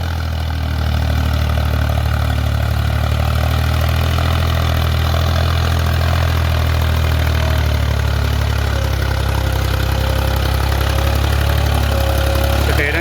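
Tractor working a puddled paddy field, its engine droning at a steady low throb with a lingering mechanical hum, close and continuous, no voices.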